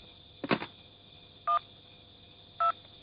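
Telephone keypad tones in the anime Hunter x Hunter: a short dialing chirp followed by two distinct evenly spaced beeps, clean and close, with no talking.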